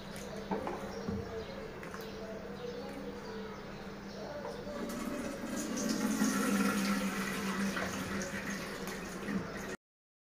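Soaked wheat liquid being strained through a sieve in a home kitchen, a steady trickling and pouring wash of water that swells midway, with a voice talking over it and faint birdsong.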